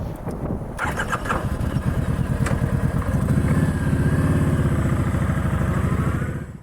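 A Kawasaki Nomad motorcycle engine cranks with a few clicks, catches and settles into a loud, close, rumbling idle that holds steady before cutting off.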